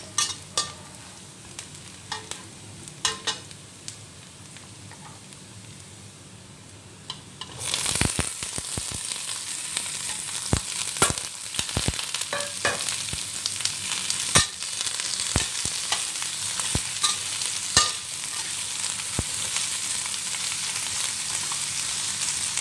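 Potato and carrot pieces tossed into a hot pan for a lamb shank stew set off a sudden loud sizzle after a quiet start, then fry steadily with scattered clinks and scrapes of stirring.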